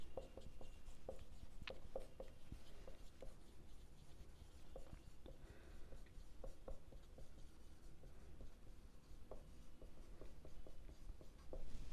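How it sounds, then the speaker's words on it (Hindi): Handwriting on a board or page, soft scratchy pen strokes and small taps in an irregular stream, faint and close throughout, no voice. "अब चलिए मैं आपको इधर लिख करके बताती हूँ"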